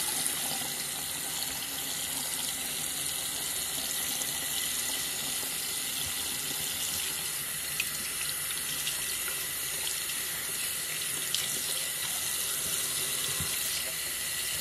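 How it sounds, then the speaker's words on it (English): Hot water runs from a tap into a sink in a steady, even hiss and splash, moderately quiet and unbroken for the whole stretch, with no talking. "Putting hot water on it."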